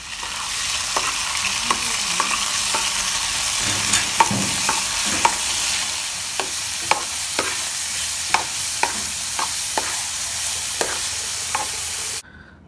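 Beef and broccoli fry in a pan with a loud, continuous sizzle. A spatula knocks and scrapes through it in repeated sharp taps, and the sound cuts off abruptly at the end.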